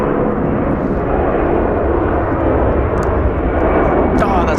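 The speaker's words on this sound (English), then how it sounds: "hear that engine sound." A Boeing 757 jet engine roars at LAX airport: a loud, steady broadband rumble and whine that holds for several seconds, close and overwhelming, with a few faint clicks near the end.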